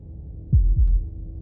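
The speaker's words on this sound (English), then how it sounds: "That was the sound of a heartbeat." Heartbeat sound effect in the video game Slay the Princess: two deep, thudding beats in quick succession over a low hum, alone with no voices.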